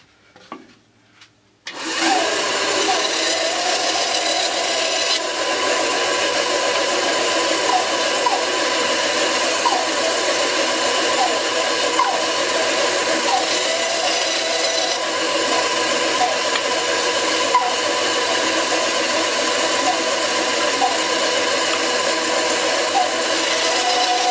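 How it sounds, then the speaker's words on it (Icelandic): A band saw cutting pieces of wood, starting with a few faint knocks before the motor kicks in and runs as a steady, loud whirring hum for the rest of the clip. "Ég ætla að nýta mig það að ég á bandsög, saga út 3 búta, eitt sem kemur hér og þá 2 sem koma hér."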